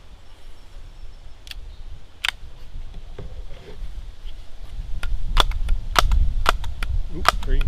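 A Daisy Powerline Model 35 BB gun fires single-fed Daisy premium grade BBs, giving sharp, distinct snaps with a few spaced shots at first and then a quicker cluster later over a low background rumble.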